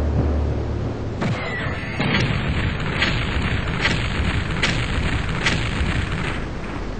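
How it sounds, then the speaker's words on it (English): Dense, continuous rumbling explosions and booms from a base defence battle in the video game Terror From The Deep, layered over one another, with sharper blasts punctuating a loud, sustained roar. "Lots of explosions"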